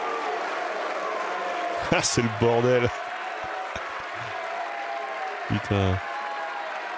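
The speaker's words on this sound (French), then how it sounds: "C'est moi ou tout le RN est debout en train d'applaudir, là?" Steady applause fills the French National Assembly chamber during a censure motion debate, and short bursts of nearby talking break in over the continuous clapping.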